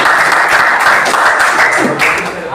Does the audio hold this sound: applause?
yes